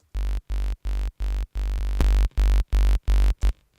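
Nine punchy uncompressed kick drum hits in a steady rhythm, each a deep boomy thump with a bright click, played alone with short gaps between them.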